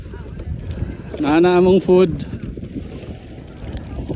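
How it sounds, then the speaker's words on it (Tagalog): Strong wind gusting outdoors, a steady low roar and rumble on the microphone that runs the whole time, with a short stretch of a person talking partway through. "Okay, kusog na ang hangin."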